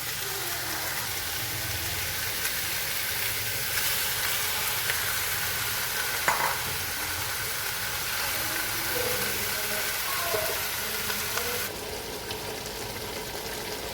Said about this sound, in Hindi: चिकन हमारा मज़ेदार सा देखिए कितना प्यारा भुन रहा है, इसके ऊपर ऑयल आना शुरू हो गया